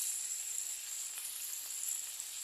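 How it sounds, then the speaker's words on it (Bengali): Potato and pumpkin fry lightly in oil, producing a steady, even, high-pitched sizzle with no distinct stirring strokes, heard close and at constant volume. "এটাকে বেশি ফ্রাই করব না, একটু হালকা হালকা জাস্ট 2-3 বার একটু নেড়ে"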